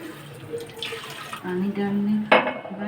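Water pours into a pot of boiled milk for kheer with a splashing, gurgling stream, then a louder burst of pouring near the end, while a voice speaks over it at times.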